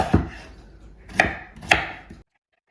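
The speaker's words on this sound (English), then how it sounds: "I'm gonna cube it up and then I'm just gonna rinse the potatoes in the bowl" A knife cubing peeled potatoes on a board, three distinct chopping thuds spaced unevenly, close and clear, with no talking.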